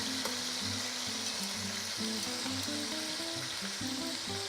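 Chicken browning in oil in a large casserole for a Brazilian chicken and rice dish, a steady close sizzle and crackle with no talking.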